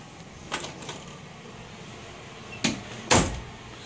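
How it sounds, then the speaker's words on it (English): Apartment door in an older building on Duke Street East opening as someone walks in, a couple of soft knocks or latch clicks followed by two louder thumps near the end, close and fairly quiet over room hiss. "Here's my door to my apartment. Let's go on in."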